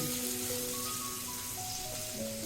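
Chopped onion sizzles in hot oil while cooking a Nile tilapia fish curry, a steady, close crackling fry under faint tonal background sounds.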